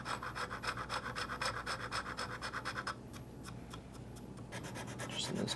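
Steady rhythmic rasping of a hand file worked across a wooden handle on a Damascus chef's knife, close and continuous for about three seconds, then lighter intermittent scraping strokes.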